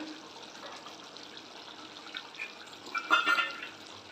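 Oily hilsa fish curry with reduced gravy bubbles softly in a pan, a faint steady simmer with some louder popping bubbles toward the end.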